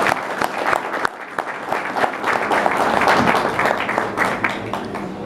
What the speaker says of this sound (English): let's give a round of applause for Mnyala Tikatizi.